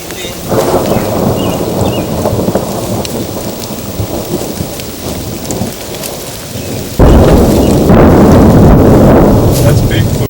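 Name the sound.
heavy rain with thunder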